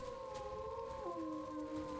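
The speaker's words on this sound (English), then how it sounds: "Okay, I can howl now." Dire bears in the video game Ark: Survival Ascended give a group howl, several long, steady overlapping tones that hold and then slide downward together, loud and sustained with no talking.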